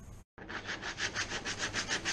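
Light hand sanding of hot-welded poly plastic on a worn kayak keel, a close, soft rhythmic scratching in steady back-and-forth strokes about three per second after a brief silence.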